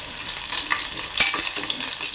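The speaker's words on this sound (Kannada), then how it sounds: "ಒಂದು 4 ಕರಿಬೇವು ಹೆಸರು ಹಾಕ್ಕೊಂಡ್ಬಿಡೋಣ. ಜಸ್ಟ್ ಫ್ರೈ ಆಗಲಿ." Curry leaves fry in a hot pan with a steady, bright sizzling hiss, close and continuous, with a brief louder crackle midway.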